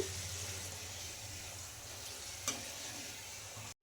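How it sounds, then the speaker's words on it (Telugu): Urad dal pooris deep-frying in hot oil give a steady, close sizzle with a fizzing hiss, a single brief crackle near the middle and a sudden drop to silence at the very end. "పూరి మంచి కలర్ వచ్చే వరకు అయితే ఫ్రై చేసుకోవాలి"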